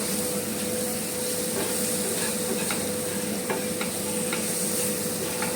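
Spices and ground black pepper mixed into mushrooms frying in a pan, giving an even close sizzle broken by regular scraping strokes of the stirring spoon, with no speech.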